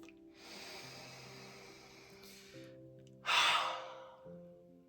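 A person draws in a long, slow breath and then lets out a louder, breathy exhale, close and alone over a faint, steady tonal background.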